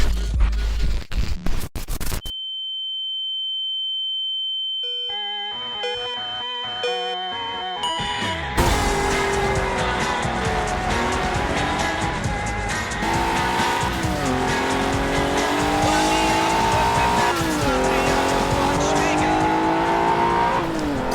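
A Vauxhall Lotus Carlton races a modern B8 Audi RS4 Avant in Forza Horizon 4, with loud engines revving through rising and falling gear changes and tire squeal, after a brief quiet stretch of musical tones.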